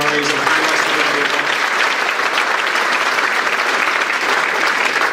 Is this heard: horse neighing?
no